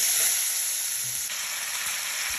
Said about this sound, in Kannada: ಕೆಂಪಾದ್ಮೇಲೆ ಬದನೆಕಾಯಿ ಪೀಸ್ಗಳನ್ನ ಹಾಕ್ಕೊಳ್ಳೋಣ